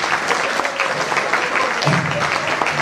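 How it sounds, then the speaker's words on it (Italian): A live crowd claps for a band's longtime bassist, with loud, continuous applause and a faint voice mixed underneath. "un applauso signore"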